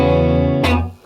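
Electric guitar through a Laser J amplifier, a held chord ringing loudly, then a brief bright scrape before the sound cuts off and fades quickly, with no voices.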